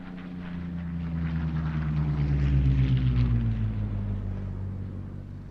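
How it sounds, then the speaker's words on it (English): A Curtiss P-40F Warhawk fighter makes a flypast at a Duxford air show, its piston engine droning as it swells, peaks near overhead and fades slightly, with a tone that shifts as it passes. "And that was the Curtiss P40F Warhawk in the colour scheme of Lee's Hope"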